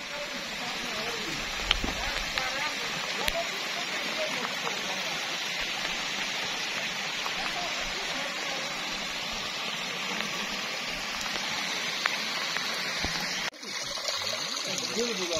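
Heavy rain pours steadily at a mountain waterfall, a dense continuous hiss and splatter with rushing water beneath, loud and constant, with a few sharp knocks and a brief dip near the end.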